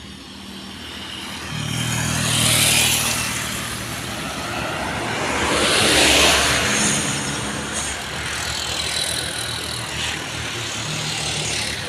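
Toyota Avanza car climbing the steep Bukit Kodok hill road, a steady broadband engine and tyre roar rising and falling as it passes, with low engine hum throughout and no talking.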